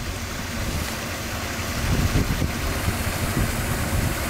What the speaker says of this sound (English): Some people think it's 1 million gallons a day of water out of the New Orleans sewage and water system.